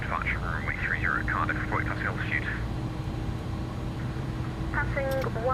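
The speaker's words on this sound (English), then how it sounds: "Can you hear those engines when I give them a rev?" In the X-Plane 11 flight simulator, the jet engines of an Airbus Beluga spool up into a steady, broad roar and whine that continues throughout. A person talks over the engine noise during the first half.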